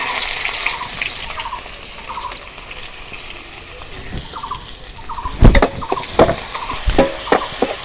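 Chopped onions fry in white oil for a village-style chicken biryani, with a constant hiss of sizzling and a run of sharp spatula scrapes and knocks against the pot near the end.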